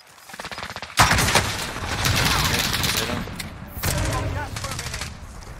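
Gunfire in the video game Warzone: dense bursts of automatic shots begin sharply and continue almost without a break, loud and close, with a brief lull before another volley. A voice speaks faintly over the opening shots.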